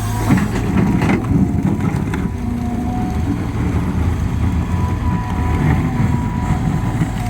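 A Caterpillar CAT 320 GC Next Gen excavator digs a large, deep pond through hard rock, its diesel engine a steady, loud, close rumble throughout, with scraping and crunching on top.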